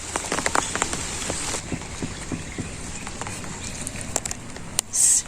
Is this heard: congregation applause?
no